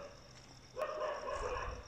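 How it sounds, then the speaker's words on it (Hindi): Dogs barking in a village at night, a sudden bark and yelping rising out of quiet background partway through, fairly distant and faint. "कुत्तों की आवाज इस साइड आओ"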